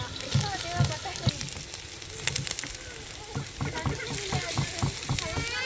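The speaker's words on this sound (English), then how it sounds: "Once the oil was hot, we added in the mustard seeds and onion." Mustard seeds and chopped onion dropped into hot oil in a large pan, crackling and sizzling with rapid popping bursts and stirring, for a Sri Lankan lunch.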